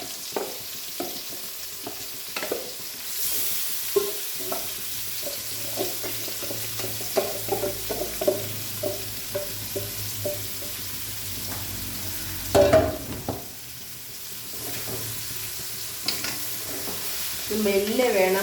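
Citron pieces coated in masala frying in a pan, a steady sizzle with repeated scraping stirs throughout, one louder clatter partway through, no talking.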